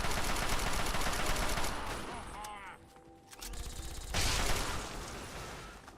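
Gunfire from the video game Fallout 3 rattles in dense, loud bursts, easing briefly before another heavy volley erupts, with some speech mixed in.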